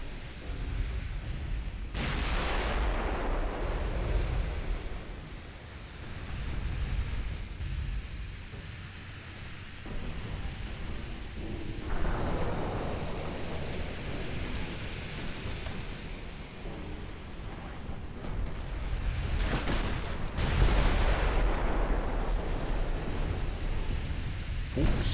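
Naval gunfire aimed at a battleship in a strategy video game, heavy booming blasts rolling out amid a dense, continuous roar of battle noise, with a few stronger reports standing out over the rumble.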